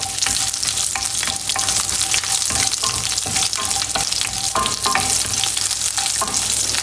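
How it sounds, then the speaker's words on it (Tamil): Fenugreek seeds, curry leaves and garlic frying in oil, a loud crackling sizzle with frequent spatula scrapes and stirring knocks, close and steady. "அடுத்தது கருவேப்பிலை, அப்புறம் பூண்டு நல்லா செவக்கிற வரைக்கும் ஃப்ரை பண்ணிக்கோங்க."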